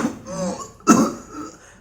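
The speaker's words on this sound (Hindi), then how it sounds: "बस ऐसा लगेगा खांसने की बच्चा कोशिश कर रहा है लेकिन खांस नहीं पा रहा है" A child's hampered, muffled cough with something stuck in the throat, a weak strained attempt followed by a short choked burst, close and alone.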